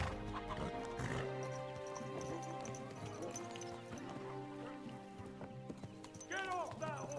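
Horse hooves clip-clop in the video game Kingdom Come Deliverance 2, uneven clattering steps mixed with other game sounds and a short whinny near the end, with someone talking over it.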